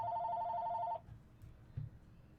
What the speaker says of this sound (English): The phone will go away.